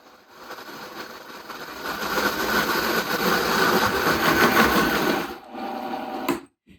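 A blender ramps up to high speed while blending dairy-free vegan milk chocolate, whirring louder and steadier as it climbs, then cuts off abruptly near the end.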